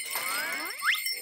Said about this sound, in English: I put bells on mine and Tossbeak's feet so they can hear us and run away.